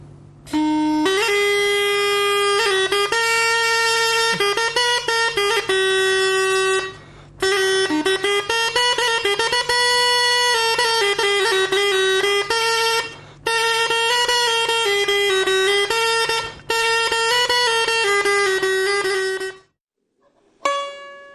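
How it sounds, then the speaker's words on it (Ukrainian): A loud, nasal single-reed wind instrument resembling a surna plays a bright, buzzing melody in phrases separated by short pauses, with a steady drone underneath. "І от звук дуже схожий до сурни."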